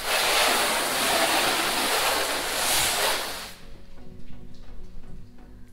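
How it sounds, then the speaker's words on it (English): Water sprays onto a ceramic-coated 2013 Hyundai Veloster Turbo as a loud, hissing rush for about three and a half seconds, then stops, leaving quieter dripping and faint background noise. "if I spray the car, you'll see that the water just beads off very quickly"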